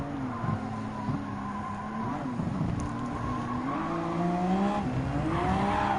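Race cars including Mitsubishi, Mercedes-AMG and Nissan Vision GT models in Gran Turismo 7, with a steady, loud engine whine rising and falling through gear changes and tire noise, continuous throughout with no talk.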